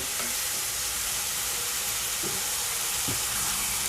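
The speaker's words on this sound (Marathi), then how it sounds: "आता हा टमाटा थोडा यामध्ये शिजू देऊया तेलामध्ये" Tomato softening in hot oil in a pan for a potato and pea curry, giving a steady broadband sizzle with a couple of faint stirring knocks, close and alone.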